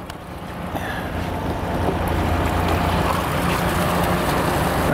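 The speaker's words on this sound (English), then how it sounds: "So we have the sump pump down here running." A sump pump runs at a hydrocarbon silt separator wash pad, moving about 16 gallons a minute through an 800 micron filter; a steady, dense rushing water-and-motor roar builds slightly and holds throughout, with no talk.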